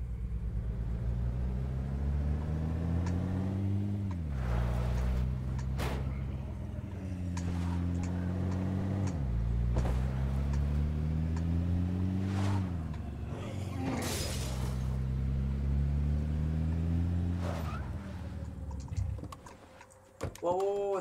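A car in the video game State of Decay drives along, its engine rising and dropping through several gear-shift sweeps with a steady mid-loud rumble and scattered clicks and knocks, ending in a burst of noisier activity.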